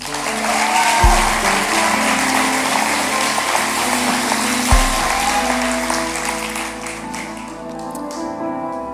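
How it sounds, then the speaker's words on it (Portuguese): A church congregation applauds steadily and loudly, a dense sustained wash of clapping with a low musical tone underneath and no talking. "Você pode aplaudir Jesus?"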